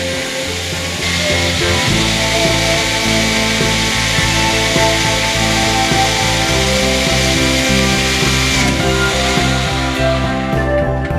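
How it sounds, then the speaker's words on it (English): A power drill whines steadily at close range, boring bolt holes in a catamaran's rudder housing, its motor pitch wavering slightly as it bores through material, with no voices. "I drill the holes for the bolts."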